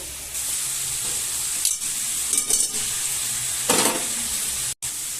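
Chicken curry masala sizzles steadily in a pan as small potatoes go in, with a few brief stirring and clattering bursts over the constant hiss and no talking.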